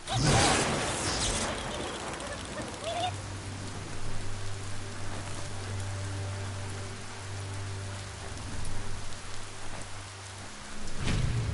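Rain pours down in a thunderstorm in the video game Biomutant, a dense hiss with a loud crack of thunder at the start and a long low rumble rolling underneath, and no voices.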